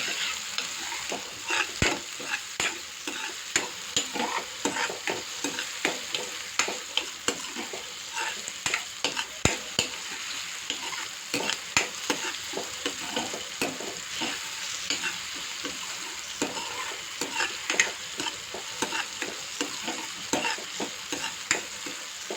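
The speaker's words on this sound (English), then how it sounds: "I'll saute it well and cook it well" Onions and tomatoes sautéing in a pan over a medium flame, a continuous close sizzle broken by frequent rhythmic scrapes and clacks of stirring throughout, no voices.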